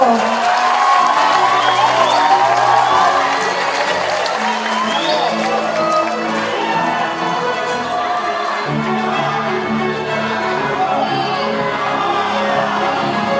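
An audience at a political declaration event in Indonesia supporting presidential candidate Prabowo Subianto breaks into loud applause, cheering and whoops that fade gradually, with voices shouting amid the crowd.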